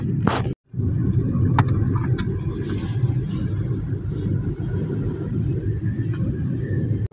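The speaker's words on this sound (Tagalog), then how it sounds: "Ito mga truck." Trucks at Lipata Port in Surigao give a continuous low engine rumble with idling and passing vehicle noise, broken by a brief dropout near the start.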